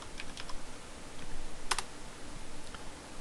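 Command typed on a computer keyboard: a few soft, quiet keystrokes with one brief burst of clicks partway through, over faint room noise.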